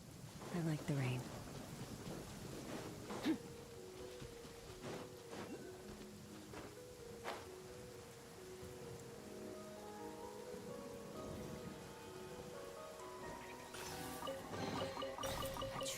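Steady rain patters and hisses across surfaces in a video game, with faint distant rumbles and scattered soft tones. The wash of rain stays even and moderately quiet throughout, swelling slightly near the end.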